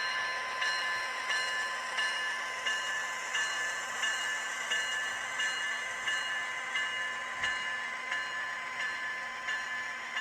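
An MTH HO scale ES44AC model locomotive runs smoothly on its track. A faint, steady hum sits under soft, evenly spaced rhythmic clicks. Nobody speaks.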